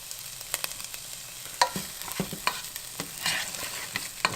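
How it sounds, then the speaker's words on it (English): Chicken soup and half a bag of frozen vegetables are stirred in hot oil, a steady sizzle broken by irregular clinks and scrapes of a utensil against the pot, close and moderately loud, with no talking. "Mix it all around in the oil."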